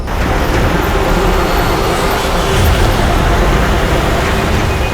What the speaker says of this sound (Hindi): अरे अभी ट्रैफिक मिलना था क्या?